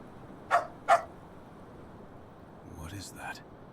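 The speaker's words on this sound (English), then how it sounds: "That was someone recorded their real life dog." A real pet dog gives two quick barks close by, a short pause apart, followed after a gap by a softer whimpering or yipping call over quiet room noise.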